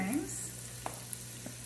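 Vegetables sweat in a soup pot for chicken and corn chowder with a soft continuous sizzle and a couple of faint stirring clicks, heard briefly and close.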